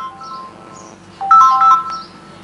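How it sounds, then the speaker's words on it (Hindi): A mobile phone rings with a bright electronic melodic tone, louder in the middle, heard over faint background noise with no clear speech. "अरे भैया ये मेरा फोन बहुत डिस्टर्ब करता है ना।"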